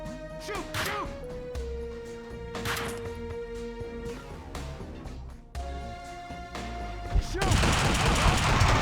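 Gunshots in the shooter Max Payne 2, scattered sharp cracks and impacts over a background of music, ending in a noisier burst of shooting, with some speech mixed in.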